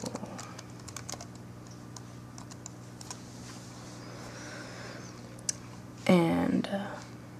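Fast, irregular clatter of keys on a computer keyboard, close by and fairly soft, with someone speaking over much of it and a brief louder burst near the end.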